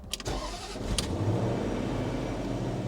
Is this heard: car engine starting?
yes